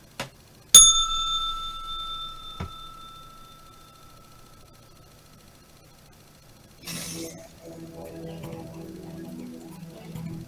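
A single crisp strike of a small bell closes a live trading broadcast, its bright ring decaying slowly over several seconds before faint background noise returns.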